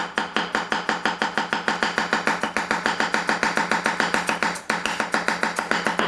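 A Tsutomu Kajihara Damascus gyuto knife chops on a cutting board with fast, even, light taps, about seven per second, close and steady with a brief break near the fifth second.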